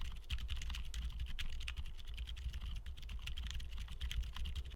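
Typing on a keyboard fitted with Penguin silent tactile switches: a steady run of soft, muted keystrokes with no voices and a low background rumble underneath.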